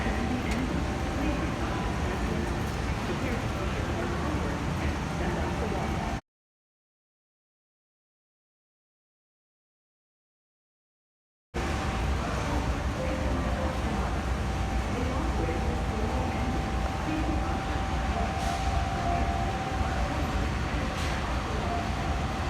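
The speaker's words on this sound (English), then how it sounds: "These are Westmont escalators" Westmont inclined moving walkways run inside a Menards store in Waukesha, Wisconsin, giving a steady mechanical drone with store ambience, broken by a silent gap midway.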